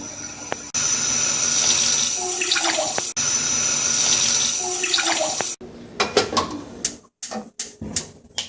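Steady stream of tap water running loudly into a pot for several seconds, then stopping, followed by scattered clinks and splashes.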